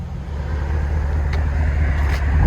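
A 2019 GMC Sierra X31 pickup with a 5.3L V8 and dual Flowmaster Super 10 exhaust with stock resonators drives off down the road, a steady deep engine rumble building slightly louder toward the end, with no talk.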